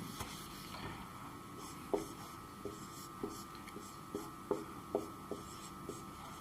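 Marker or chalk writing on a board, with scratchy strokes and a run of sharp taps and knocks spaced irregularly, faint and close.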